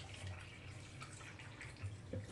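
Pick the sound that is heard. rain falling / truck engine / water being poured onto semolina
water being poured onto semolina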